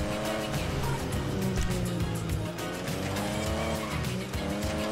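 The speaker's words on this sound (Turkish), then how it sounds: "Of var ya Trevor, nasıl sürüyorsun lan arabayı?" A car in the GTA V video game drives hard with loud, sustained tire squeal and skidding over a steady engine roar, continuous and close throughout.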